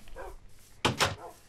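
Dogs in a video game give a couple of quick, close barks, a sharp double yap following a softer lead-in.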